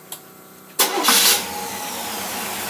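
A car engine fitted with a Holley 50262 carburetor cranks briefly, catches with a rising roar, then settles into a steady idle close by.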